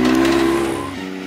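A Can-Am X3 or Yamaha YXZ side-by-side runs on a dirt jump and test track, its engine holding a loud, steady drone before the pitch drops as it comes off the throttle, in a brief close pass with no talking.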